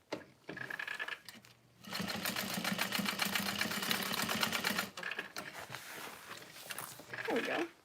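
A sewing machine runs steadily, stitching lines through the lining of a vanity bag, with a dense rapid rhythm of needle strokes. Short bursts come before and after, and a voice speaks briefly in the pauses.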